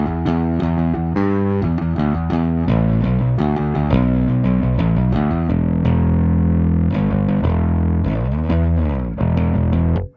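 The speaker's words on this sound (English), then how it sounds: "This is to activate the distortion, and this is to activate the octave." Electric bass played through a Darkglass Kaamos pedal with both its distortion and octave engaged, giving a loud, continuous, gritty tone with thick sub-octave weight as notes and chords shift steadily throughout, with no talking.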